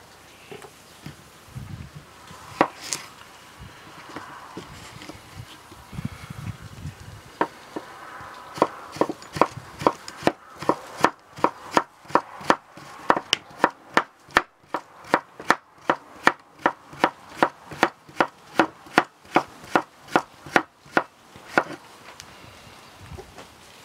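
A Pioneer Mr.Blade kitchen knife chopping cucumbers on a board, a long run of crisp, close, evenly spaced thuds that speeds into a fast steady rhythm, after some slower scattered cuts and rustling.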